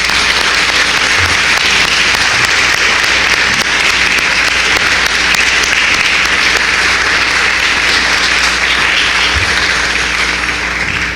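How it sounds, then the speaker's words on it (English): A large convention audience in Washington, DC gives a long, steady round of applause for a panel of women attorneys leaving the stage, with dense clapping that stays loud and even throughout. "a big round of applause."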